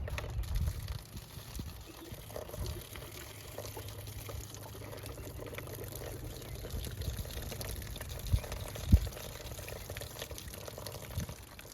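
Liquid being poured out outdoors near a railing, a steady watery trickle and splash running throughout with a couple of brief sharper knocks near the end.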